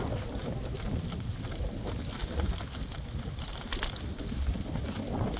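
Strong wind buffets the microphone during a mountain bike ride near Halswell Quarry, a continuous low rumble and gusty roar, loud and unbroken, no speech.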